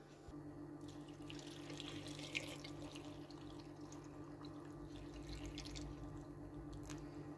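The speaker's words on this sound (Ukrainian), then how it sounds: "Накидали і заливаємо окропом." A steady stream of boiling water pours and trickles quietly into jars of tomatoes for canning for several seconds, with faint splashes and a low background hum.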